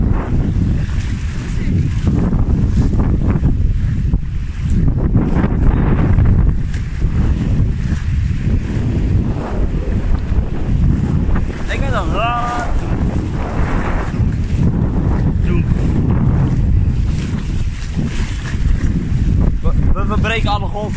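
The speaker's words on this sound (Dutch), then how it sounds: "We breken alle golven, lijkt het." Boat pushing through choppy waves at sea in steady wind, a continuous loud rush of water and wind buffeting across the whole stretch, with people talking intermittently over it.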